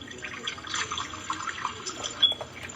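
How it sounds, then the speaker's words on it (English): Kitchen tap running water for cooking ramen, a steady splashing hiss into the sink, close and fairly loud, with no talking. "You can go ahead and turn the water for your ramen on."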